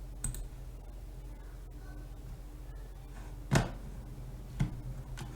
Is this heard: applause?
no